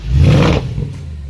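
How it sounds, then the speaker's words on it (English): A 2010 Mercedes-Benz W204 C63 AMG V8 revved from behind the car, a single loud, close roaring blip that swells and then settles back to a lower rumble, with no talk. "I'm gonna go onto the back so when you rev the engine you can hear it."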